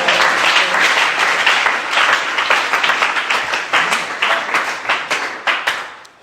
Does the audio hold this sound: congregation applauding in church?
yes